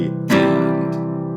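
A guitar strum with a sharp upstroke attack that rings on and sustains through the following beat, a single bright chord decaying slowly with no voice over it.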